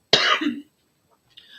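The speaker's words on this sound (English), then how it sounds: "This cough is going to be the end of me." A single sharp cough close to the mic, followed by a short silence and a faint breathy sound.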